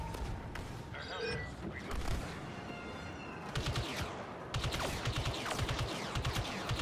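Star Wars Battlefront 2 gunfire on Hoth, rapid blaster-style bursts and repeated shots, loudest near the end, with a person talking over the battle.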